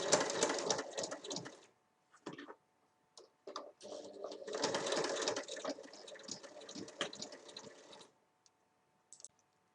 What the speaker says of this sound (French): je vais venir les coudre de chaque côté de la fermeture à glissière